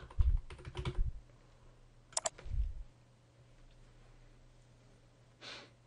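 Someone types a Twitter username and password on a computer keyboard in two short bursts of quiet clicking, followed by a pause with faint breathing and a brief soft puff near the end. No speech.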